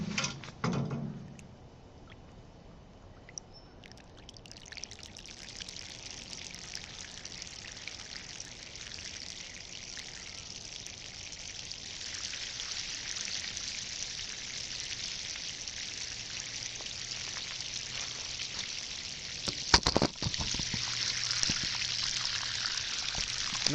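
Water poured like rain onto a soil erosion model, a steady broadband trickling and splashing that builds gradually and runs continuously throughout, with a brief louder splash near the end.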